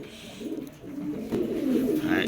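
Low, soft cooing of pigeons close by, a continuous murmuring throat call with no talking.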